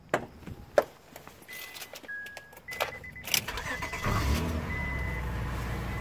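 A car engine cranks over after some clicks and knocks, then catches and settles into a steady, close idle.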